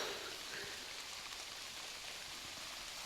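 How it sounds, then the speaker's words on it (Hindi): Heavy rain pours down steadily outdoors in a hillside village, a dense, continuous hiss with no voices and no breaks. "बारिश भी लगने लग गई है इतनी तेज़"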